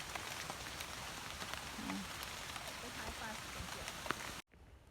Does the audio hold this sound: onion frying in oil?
no